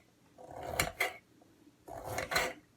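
A soft, flimsy knife cuts green peas into small pieces, giving two short bursts of close scraping and chopping against a hard surface with a quiet pause between.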